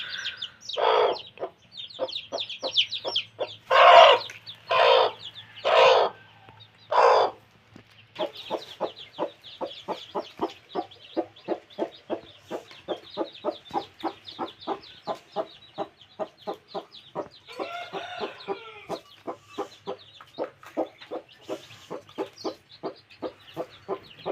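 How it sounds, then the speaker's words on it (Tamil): Native hen with a brood of newly hatched chicks: a few loud, drawn-out clucks early on give way to a long, steady run of rapid, high peeping from the chicks, close by with no talk. "கோழி குஞ்சு எல்லாம் பொரிச்சதும் கோழி அடையை விட்டு வெளியேறிடுச்சு."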